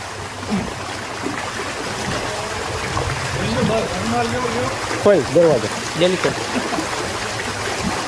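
River floodwater pouring into houses gives a continuous rushing flow, heard under people talking loudly nearby.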